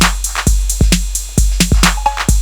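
A second 808-style drum pattern, a short fill variation, plays from a Roland drum module with deep kicks, sharp snares and hi-hats. The hits are quick and loud with no voices.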